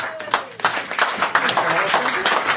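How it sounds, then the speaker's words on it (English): Clapping from a pub audience at the Leicester CAMRA Pub of the Year 2019 event, a short scattered round of applause with voices and cheering mixed in. "Give yourselves a round of applause."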